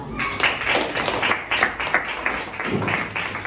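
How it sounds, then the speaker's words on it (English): Audience clapping in a church service, a dense, steady round of hands filling the room for several seconds, with a voice faintly audible underneath. "A clap for them."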